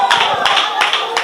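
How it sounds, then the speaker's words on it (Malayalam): A congregation claps in quick, close, rhythmic bursts during church worship, with speech over the clapping. "അടുത്തിരിക്കുന്നവര് കൈയടിക്കുന്നു, ആരാധിക്കുന്നു"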